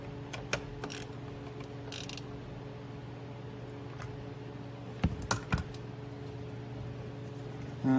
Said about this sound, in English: Reattach the bolt that holds it from the side. Tighten to 7 foot-pounds.